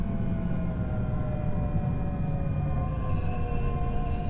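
A train in the Train Sim World 3 video game, a class 385 on a circular route, runs steadily with a loud, continuous low rumble and sustained tonal whine, unbroken throughout.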